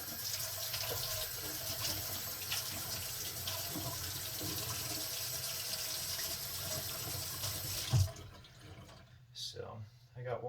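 Water from a tap runs steadily over and into a wet vegetable-tanned leather sheath, a continuous splashing gush that cuts off near the end, leaving a quieter room.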